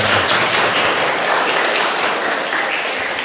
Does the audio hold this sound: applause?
yes